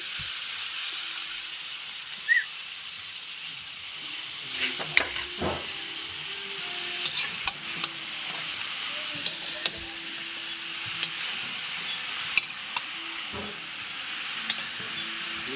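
Meat sizzling in a hot frying pan with occasional stirring scrapes and clinks, a steady close hiss of frying running throughout with sharp utensil knocks scattered over it.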